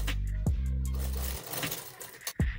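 A sewing machine runs steadily, stitching elastic onto the fabric of an off-shoulder top, with a continuous motor hum, then a pause and a few short bursts of stitching near the end.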